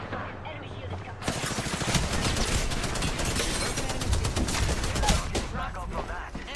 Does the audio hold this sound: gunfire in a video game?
yes